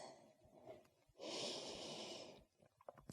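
Someone holding a yoga pose takes one long, loud exhale through the nose. Fainter breaths come before it, and a few small rustles follow, all close by.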